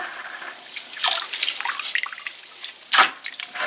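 Carbon and ceramic filter media from a Fluval Evo nano reef aquarium rinsed under running water, with splashing and trickling bursts close by, briefly louder near the end, and no talk.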